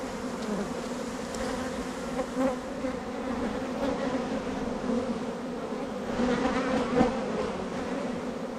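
Dense buzzing of many honeybees at a hive fills the clip, a steady close hum that swells and dips slightly without any voices.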